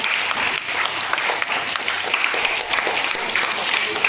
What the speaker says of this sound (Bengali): হাততালি দাও সবাই ভেরি গুড